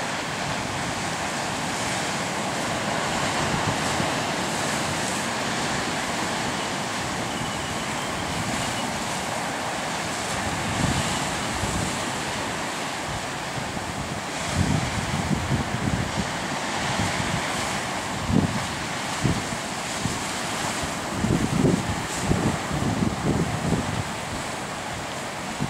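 Ocean surf and wind along the Maui coast, where windsurfers ride big waves: a steady roar of wind and breaking water with louder crashing surges toward the end, no voices.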